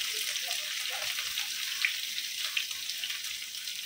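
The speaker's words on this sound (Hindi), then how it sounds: "तो देखो अब प्याज डाल दिए" Chopped onions, with chillies already in the pan, fry at a steady, even sizzle in an Indian home kitchen for a soya greens dish. The hiss runs continuously and fairly loud throughout.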